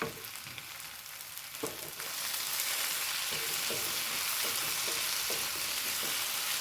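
A jackfruit biryani mixture with curry leaves fries in a pan, a steady loud sizzle that swells after a couple of seconds, with soft scraping knocks from stirring.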